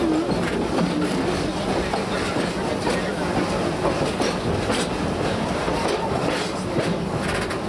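A park tour train at Busch Gardens Florida rolls along steadily, its wheels clattering and rumbling on the track in a continuous rhythmic clack.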